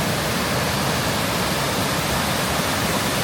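Mae Sa Waterfall in Chiang Mai, a steady, dense roar of falling water, loud and unbroken from start to end, with no other sounds.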